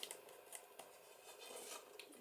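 Scissors snip and trim cardstock paper for a handmade card front, a quiet run of crisp little cuts and paper rustles close up with no voice.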